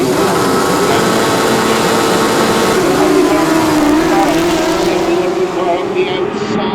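Racing sidecar outfits roar around a grasstrack at a European semi-final heat, loud engines rising and falling in pitch as they pass close by, with a commentator talking over them.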